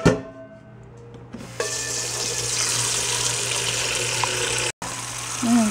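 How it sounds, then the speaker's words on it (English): Cold tap water runs in a steady, close rush as a bowl fills in a home kitchen, after a moment of quieter room sound, with a brief break near the end. "Fill this up with cold water."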